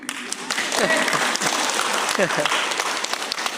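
An audience claps steadily throughout, a dense wash of applause with a few voices mixed in.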